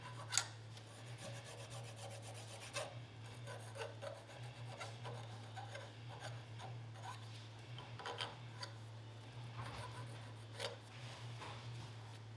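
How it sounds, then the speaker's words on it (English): Hand file rasping burrs off the corners of a metal pipe during a Duramax CP3 conversion install, a series of faint scraping strokes over a steady low hum. "Clean up any burrs. Just take a file the corners down."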